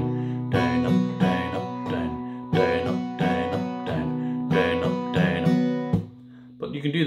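Acoustic guitar strumming chords in a steady down-down-up pattern, bright chords ringing close and clear, with a brief pause near the end before strumming resumes.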